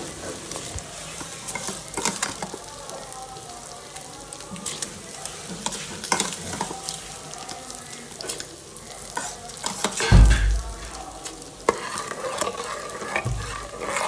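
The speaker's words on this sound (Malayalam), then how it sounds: "ഇനി നമുക്കിത് കുക്കറിലേക്ക് അരി ഇട്ട് കൊടുക്കാം" Washed ration-shop rice going into boiling water in a pressure cooker for tomato rice: a steady bubbling sizzle with stirring scrapes throughout, then a louder splashing rush near the end, with no talking.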